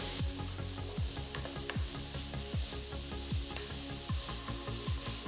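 Chopped onions and slit green chillies sautéing with cumin and cloves in a pan for a Hyderabadi veg handi curry: a steady close sizzle broken by repeated scraping stirs, with no talking.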